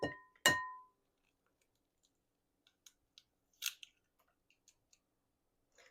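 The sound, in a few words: cracking two eggs into pancake batter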